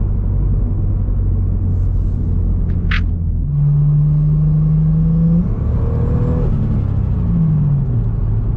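A 2004 Lexus IS300 with a turbo conversion rumbles steadily at idle, close and loud, its low engine tone wavering slightly, with a short sharp click early on.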